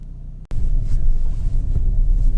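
A Fiat Panda 1.2 8v Lounge five-door drives on the road, giving a steady low engine and road rumble that starts abruptly after a brief drop and continues loud and even throughout.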